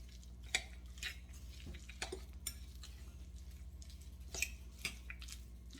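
Chicken salad made in an Instant Pot is stirred in a bowl with soft, irregular squishing and scraping strokes. The strokes are faint and close, over a low steady hum, with no talking.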